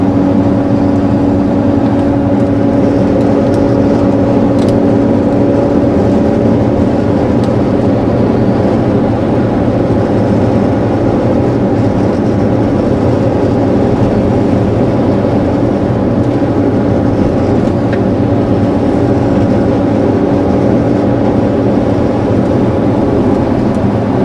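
A 1999 Jeep Grand Cherokee Limited with a fault is driven, its loud, steady engine drone and road rumble filling the cabin throughout with a constant tone and no talking.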